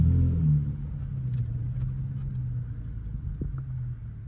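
A car rolls along a Los Angeles street, a steady low engine rumble that stays fairly even and moderately distant throughout, with no voices over it.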